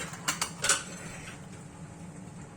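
A lid is set onto a glass jar of apple and pear jelly, giving a few quick, light clinks and taps early on, followed by quiet room tone.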